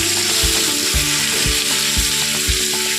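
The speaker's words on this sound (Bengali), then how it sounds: "এবার পটলটা আস্তে আস্তে ওটার সাথেই হালকা করে ভাজতে থাকবো" Pointed gourd frying in oil with dried red chilies and bay leaf, a steady close sizzle broken by regular soft thumps of a spatula stirring the pan, with no voices.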